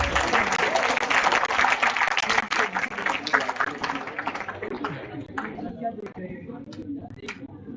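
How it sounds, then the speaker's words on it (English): Audience applause fills a conference hall, dense clapping loud at first then thinning and tapering off, with crowd murmur and voices mixed in. "Give a huge round of applause, guys."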